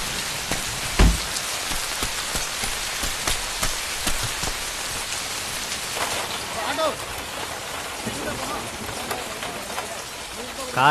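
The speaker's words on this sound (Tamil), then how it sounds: "மழை வேறடா" Steady heavy rain pours down in a dense, close hiss that fills the whole stretch, with occasional louder drops and splashes and voices speaking beneath it.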